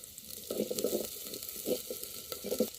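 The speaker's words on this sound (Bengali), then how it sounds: "এই যে জিরা ফোড়ন দিয়ে নিচ্ছে তেলানি হয়ে গেছে" Cumin seeds sputter in hot oil in a village kitchen pan, making bursts of close crackling sizzle in short clusters over a quiet, even background hiss.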